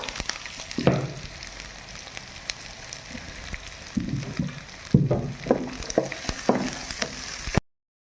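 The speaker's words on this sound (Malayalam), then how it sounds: "ഇപ്പോൾ ഈ ഒരു ഇതിൽ ഞാൻ ചെറിയുള്ളി ആഡ് ചെയ്ത് കൊടുക്കുകയാണ് അപ്പോൾ ഈ ചെറിയുള്ളി നന്നായി നമുക്ക് വഴറ്റി എടുക്കണം" Small shallots sautéing with ginger and garlic in a hot pan: a continuous close sizzle with occasional stirring scrapes and clatters of a spoon, steady and fairly loud before cutting off abruptly, with no talk.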